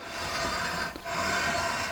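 Steady abrasive rubbing, like sandpaper or a file scraping back and forth over guitar frets during fret levelling, with a brief pause midway; close and fairly loud, no voices.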